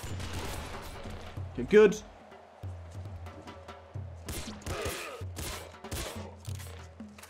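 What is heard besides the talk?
gunfire from a yo-yo gun in video game Nuclear Throne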